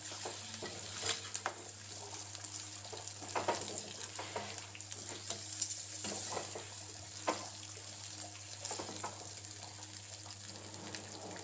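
Quail fry with curry leaves sizzles steadily in a pan as a spatula stirs it in repeated scraping strokes, with no talking.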